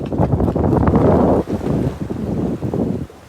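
Steady wind buffets the microphone out on open, overcast sea beside a small fishing boat, a loud continuous rush with gusts that briefly dip and swell, no speech over it.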